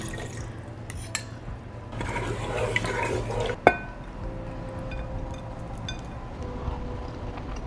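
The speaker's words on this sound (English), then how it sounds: "add a little bit of water, so you're gonna pour it in" Water poured into an Instant Pot over arrowroot starch for a couple of seconds, with a soft gurgle, a clink of metal and quiet kitchen background.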